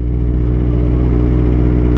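A Kawasaki ZX25R motorcycle engine with stock exhaust idles steadily with a low, even mechanical chug and faint clatter, its exhaust quiet, with no voices.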